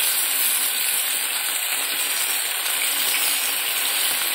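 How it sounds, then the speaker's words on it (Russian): A cutlet fries in a pan for dinner, giving off a steady, close, unbroken sizzle and hiss with no talking. "Ну, пускай жарится."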